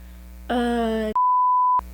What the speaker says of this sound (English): Just keep beeping, like if we were cussing the whole time.